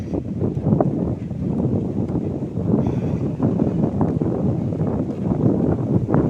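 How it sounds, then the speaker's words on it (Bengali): Cold wind blows on a village road, a steady, loud low rumble buffeting the microphone throughout. "চলেছি, হাওয়াও হচ্ছে, খুব ঠান্ডা হাওয়া"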